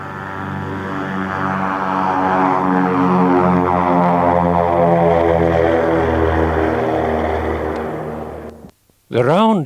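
A propeller aircraft flies toward Malmi airport in Helsinki, its steady engine drone loud and continuous throughout with a rising and falling pulse, cutting off briefly near the end.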